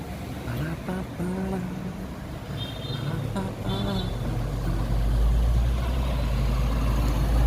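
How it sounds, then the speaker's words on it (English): Buses and traffic on a Gibraltar street, a low rumbling engine drone that swells as a heavy vehicle passes close by, with scattered voices and street noise throughout. "All the buses."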